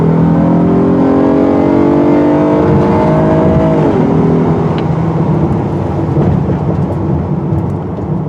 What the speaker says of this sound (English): You hear the engine when it hits red line.